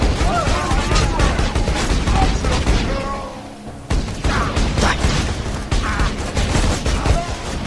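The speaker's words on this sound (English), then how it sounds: "I take my hand off control for 2 seconds and people start shooting at me." Rapid gunfire and crashing impacts from combat in the video game Borderlands 2, loud and dense throughout with a brief lull midway, mixed with game noise and occasional voices.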